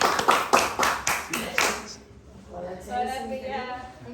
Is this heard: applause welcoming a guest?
yes